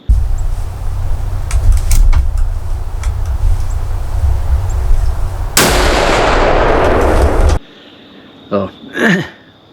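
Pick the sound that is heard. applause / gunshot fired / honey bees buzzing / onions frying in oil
gunshot fired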